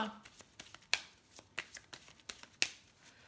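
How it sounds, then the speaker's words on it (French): Oracle love-angel cards are shuffled and drawn, giving a run of crisp, close riffling slaps and flicks at an uneven rhythm, with a brief murmur of voice at the start. "je vais tirer quelques cartes de, des anges de l'amour"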